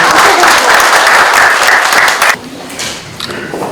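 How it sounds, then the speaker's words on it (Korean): A large audience applauds loudly at the opening ceremony of a crime prevention convention, a thick wash of clapping that drops off abruptly partway through, leaving a few scattered claps and quieter room noise. "여러분 다시 한번 큰 박수 보내주시면 감사하겠습니다"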